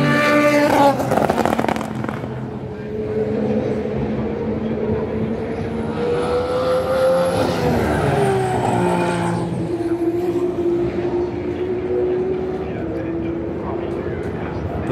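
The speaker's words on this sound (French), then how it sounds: "On voit les voitures qui arrivent." Race cars at Le Mans 24 Hours free practice approach and pass at high speed, their engine notes rising and sweeping in pitch, with one car whining past loudly while a voice talks over them.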